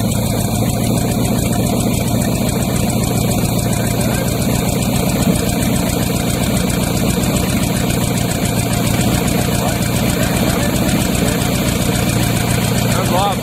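A Chevrolet 350 small-block V8 idles steadily at close range, a loud, continuous mechanical rumble with a constant, unbroken drone from start to finish.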